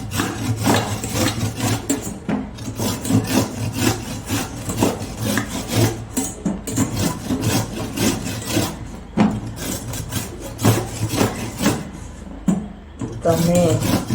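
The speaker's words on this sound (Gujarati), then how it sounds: "તો હવે આપણે આ ખમણી લીધી છે, તો આપણે એને આ રીતે છીણી લેવાના છે" Indian gooseberries (amla), washed and dried, are rubbed across a hand grater in a steady run of rasping strokes, close and continuous for the whole stretch, with a low hum underneath.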